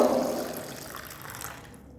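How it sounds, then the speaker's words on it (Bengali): Amla, or Indian gooseberries, being rinsed under water, a short splashing wash that starts fairly loud and gradually thins out. "এখন আমি আমলকিগুলোকে একটু জল দিয়ে ধুয়ে নেব"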